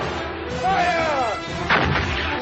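Booming cannon fire rolls out in heavy blasts with a long, rumbling tail and a second burst near the end, loud and dense, like a battlefield artillery sound effect.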